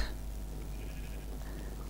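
Sheep bleating in the Minecraft video game, a steady game-sound bed with a faint bleat near the start and another around the middle, heard alone without talk.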